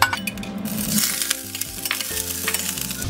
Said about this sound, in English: we will toss the potato in and we'll fry it until it turns golden brown.